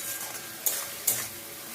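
Tomato masala for a pabda fish curry sautés in a pan with a steady low sizzle, broken by two short scraping stirs, with no one talking.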